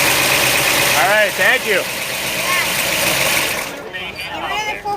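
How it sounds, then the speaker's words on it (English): A Chevrolet COPO Camaro racing engine with a clutch fan, heavy-duty cooling and a large alternator pulley idles with a steady, close mechanical rumble while someone speaks over it briefly. "The sound of racing Chevrolets."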